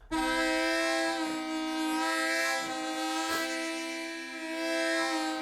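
A harmonica wails in sustained, chord-like tones that imitate an old steam train, with pulsing swells and a whistle-like rise, played alone and fairly loud.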